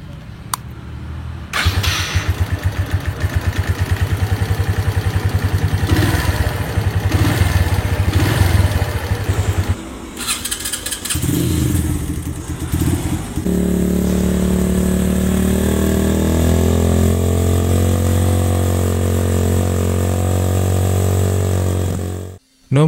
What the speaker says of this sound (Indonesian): saatnya kita akan mendengarkan suara knalpot dari Benelli Motobi